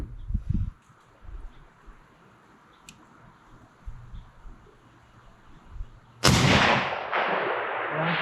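A single loud gunshot from a .300 Win Mag sniper rifle cracks out after several quiet seconds of faint outdoor rustling, followed by a long, rolling echo that trails away.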